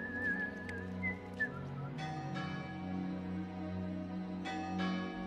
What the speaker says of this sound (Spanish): hasta silbo un viejo tema gallego